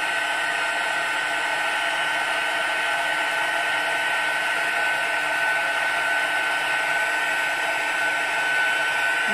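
Heat embossing tool blowing steadily throughout a floral embossing-folder craft project, a loud, continuous even whoosh held close to the mic with no breaks or talk.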